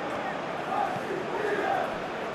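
Stadium crowd noise from a simulated Euro 2024 football match between Albania and Spain, a steady broad roar of spectators with slight swells of cheering, heard continuously and fairly distant.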